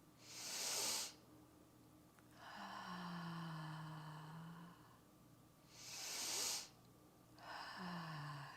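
Slow, audible breaths: two long, airy exhales, each followed by a deeper inhale with a soft voiced tone. The cycle repeats twice, close and unhurried, with no talking.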